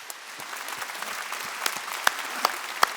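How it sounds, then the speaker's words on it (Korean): Moderate applause from a church congregation at a Wednesday worship service, steady scattered clapping with a few sharper claps standing out near the end. "하나님께 박수 쳐요"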